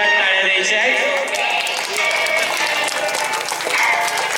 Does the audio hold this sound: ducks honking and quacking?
no